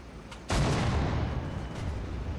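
A tank cannon in War Thunder fires once, a sudden heavy boom that rolls out into a long, fading rumble, loud and alone.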